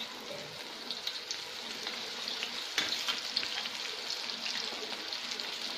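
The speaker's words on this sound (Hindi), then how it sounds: "अब इसे हम फ्राई करेंगे। तो देखिए हमारा तेल गर्म हो चुका है" Spinach and gram-flour patra rolls frying in hot oil, a steady bright sizzle with scattered pops and crackles, fairly faint and continuous with no talking.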